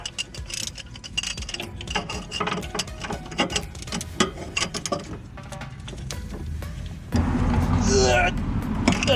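A 17 mm wrench rapidly ratchets while removing the sway bar end link on a Lexus during a coilover install, giving dense close clicking with metallic clanks, then a louder rougher grinding toward the end.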